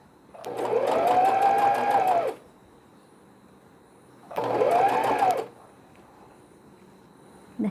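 A sewing machine stitches white cotton cloth for a washable newborn carry nest, running loud and close in two steady whirring bursts with a pause between, the second shorter, alone without speech.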